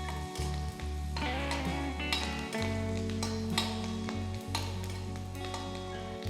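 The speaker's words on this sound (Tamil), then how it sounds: "இது நல்லா ஃப்ரை ஆன உடனே நெக்ஸ்ட்டு பச்சை மிளகா 6 பச்சை மிளகா நான் கட் பண்ணி வச்சுருக்கேன்" Green chillies frying in a pan for creamy Japan chicken, a steady loud sizzle with low rumbling and brief clinks of utensils against the pan, no talking.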